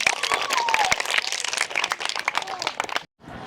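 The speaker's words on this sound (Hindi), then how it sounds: "दीदी जी का आप जोरदार तालियों के साथ स्वागत करें" Strong audience applause welcoming a speaker at a Brahma Kumaris social service event in a school, a dense continuous clapping that stays loud for about three seconds, then cuts off briefly before resuming.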